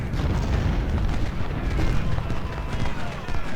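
Artillery booms and gunfire rumble in a continuous, dense battle din from the Civil War strategy game Ultimate General: Civil War, with low heavy thuds layered under scattered sharper reports.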